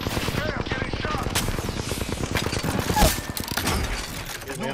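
Rapid gunfire in the Apex Legends Duos shooter, dense bursts of shots rattling close and loud as a player takes hits, with a voice partly over the shooting.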